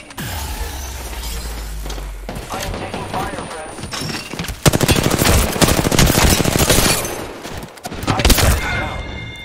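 Heavy automatic gunfire in a video game battle, loud and dense, starting after a quieter opening and building into sustained bursts with brief pauses, while someone speaks over it.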